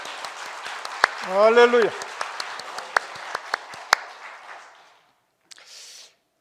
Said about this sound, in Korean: 영광과 감사의 박수를 한번 드리겠습니다